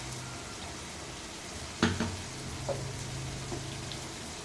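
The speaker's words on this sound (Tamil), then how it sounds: "தக்காளி நல்லா வதக்கிட்டு இப்போ தக்காளி வதங்கிட்டு இருக்கட்டும்" Tomatoes sautéing in a pan for kara kuzhambu give a soft, continuous sizzle, with a sharp clatter of stirring near the middle and a few lighter knocks after it, heard close and without speech.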